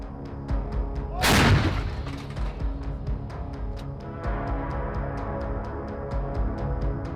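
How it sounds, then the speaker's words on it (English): Kamikaze drone strike on a Russian tank in a field: one heavy, close explosive boom bursts out, then rumbling fire and repeated sharp cracks like cooking-off rounds continue steadily. "Kamikazes flew into it and exploded inside, causing a massive internal fire."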